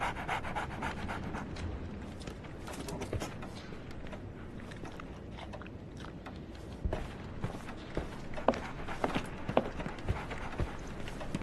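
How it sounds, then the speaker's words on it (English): Dog panting in a Sherlock Holmes video game, a steady rapid breathy pant running throughout at close range, joined later by a few sharper knocks and clicks. "So, Barnes has a dog now."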